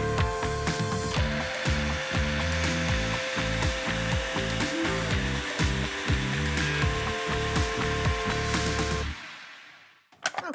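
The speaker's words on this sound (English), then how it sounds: "And then we're going to blend this and have a taste" Blender whirring through a thick avocado and coconut ice cream mixture, a loud steady motor drone with pulsing churning for about nine seconds, then it cuts off and a few clunks follow.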